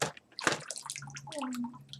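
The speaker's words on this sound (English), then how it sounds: "there's actually enough water down in the bottom of this bag." Water sloshing and gurgling in the bottom of a bag, a few close, short splashy bursts with soft dripping after, heard alone without speech.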